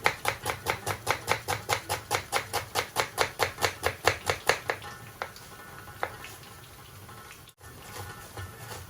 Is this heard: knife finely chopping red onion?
yes